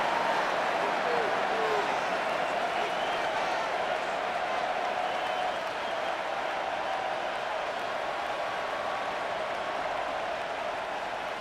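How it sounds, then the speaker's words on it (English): A dense, continuous stadium roar from a virtual football crowd in Madden 26 during a Broncos versus Packers game, loud and steady throughout with a slight swell at the start. "The crowd making their presence felt"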